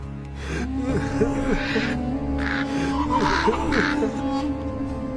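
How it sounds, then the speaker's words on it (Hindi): Harsh, repeated cawing of a crow in a children's animated bird story, several rough calls rising and falling over a steady droning background. "सुबह होते ही कौवा वहां से रोता हुआ चला गया"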